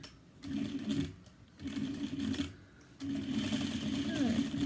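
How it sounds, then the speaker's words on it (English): A sewing machine stitches around the top of a cross-body bag, running in three bursts of rapid, steady whirring with short pauses between, as a voice talks quietly underneath. "we're going to stitch around the top with a 3/8 inch 1 centimetre seam allowance"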